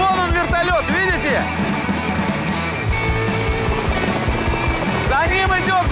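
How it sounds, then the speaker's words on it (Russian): A helicopter turns over loudly and close during a storm, its rotor thudding in a steady rhythm while someone talks over it. "Вон он вертолет, видите?"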